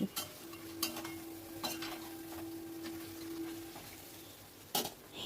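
Meat is stirred in a pan over a medium-low flame as it releases its juices: a spoon clinks and scrapes against the pan at intervals over a faint, steady sizzle, close and fairly quiet.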